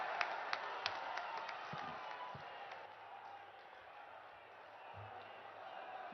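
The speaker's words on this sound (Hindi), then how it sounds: "बहुत जोरदार तालियों के साथ एक बार पुनः उनका सादर" Crowd in Varanasi applauding to welcome Prime Minister Narendra Modi at a public address; a broad, distant wash of clapping and crowd noise with a few sharper claps near the start, steady and moderately faint throughout.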